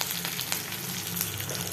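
Curry leaves crackle and sizzle loudly in a pan of tomato chutney, a dense, continuous frying hiss up close with no voices.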